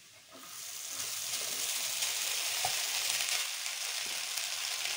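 Cooked rice tipped into a pan of golden fried garlic, setting off a steady, soft sizzle and crackle of frying that holds evenly after a brief quieter start.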